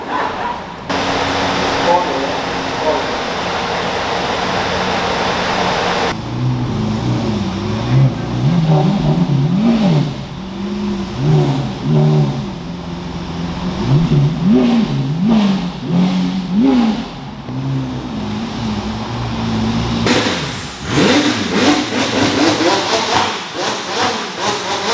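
Exotic car engine revving hard near Ferrari Houston, with rising and falling surges and crackling exhaust pops, loud and close, while people talk over it.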